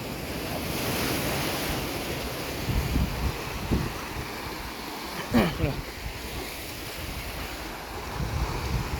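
Sea waves crash against harbour construction works in Kasaragod, with a continuous loud surf roar and wind buffeting the microphone, and a few louder surges and splashes rising out of the wash.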